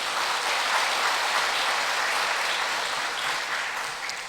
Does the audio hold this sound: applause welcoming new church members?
yes